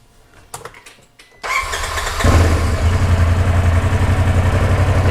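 After a few faint clicks, a Polaris RZR Pro XP engine cranks and catches, then settles into a steady, throbbing idle that continues loudly and close by.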